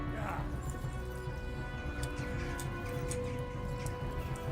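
Steady clip-clop of horse hooves at a gallop over a dense, rumbling background, continuous and moderately loud, from the video game Kingdom Come: Deliverance.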